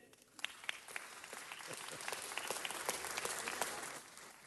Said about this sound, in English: That's worth an applause, don't you think?